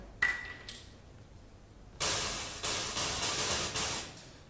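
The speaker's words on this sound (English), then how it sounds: "This is the white noise I'm using." Two short tones ring out, then a harsh burst of white noise from a synthesizer's noise oscillator hisses loudly, pulsing in several repeated swells that each fade slightly before the next.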